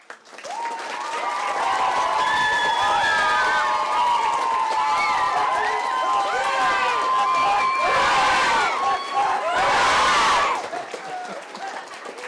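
Loud, sustained applause from an audience after a school Christmas play about the Three Kings, with cheering and children shouting mixed in, swelling toward the end before fading.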